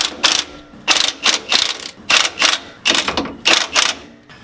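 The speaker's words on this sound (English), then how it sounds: "And then you just want to tighten up your bolts." A hand ratchet tightens bolts on a vehicle, close and loud, in about nine quick rhythmic bursts of sharp, buzzing pawl clicks separated by brief pauses between strokes.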